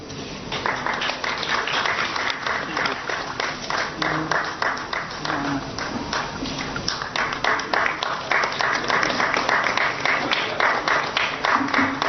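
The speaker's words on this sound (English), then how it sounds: "Please give a big round of applause" Audience applause at a lifetime achievement award ceremony, irregular clapping building and continuing for several seconds at moderate distance, with murmured voices underneath.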